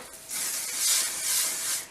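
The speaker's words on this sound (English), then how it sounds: "take some hairspray and to spray your root, just at the root" Hairspray misted onto hair roots, a soft continuous aerosol hiss lasting over a second and a half, swelling slightly twice, close and fairly quiet.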